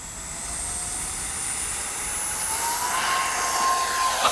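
An X-Fly 40mm RC F-15 model jet whines on a runway, its turbine-like hiss rising steadily and growing louder toward the end, with a brief bump near the close.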